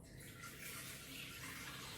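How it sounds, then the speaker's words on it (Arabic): Water poured into a Thermomix bowl, 330 grams measured for a baking recipe, a soft continuous splashing trickle close by, quiet and with no talk. "غادي نحلو لو بول وغادي نديرو الماء"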